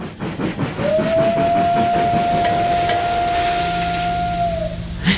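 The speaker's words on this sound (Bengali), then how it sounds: "হঠাৎ ঝিমিয়ে থাকা স্টেশনে ঝিকঝিক আওয়াজ করে ট্রেনটা ঢুকলো" A steam train pulls into a sleepy village station at night, sounding one long, steady whistle that holds for about four seconds over the low rumble and rattle of rolling wagons. No voices.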